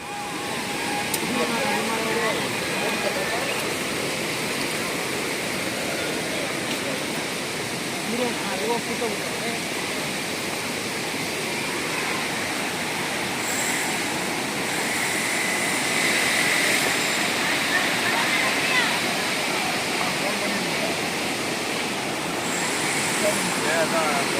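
Steady, loud rush of falling water at Hogenakkal Falls roaring without a break throughout, like a nearby waterfall.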